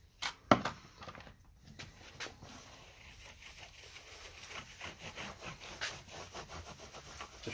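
Cloth rubbing finish into the wooden fretboard of a bass guitar, a soft, close, repetitive brushing and scrubbing with rhythmic strokes, beginning with a few sharper knocks.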